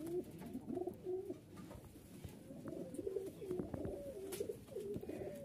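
Pakistani teddy pigeons coo repeatedly in soft, rhythmic rounds, several birds overlapping at close range with quiet background rustling and no talk.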